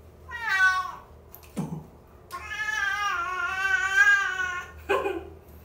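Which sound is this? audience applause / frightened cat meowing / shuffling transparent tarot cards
frightened cat meowing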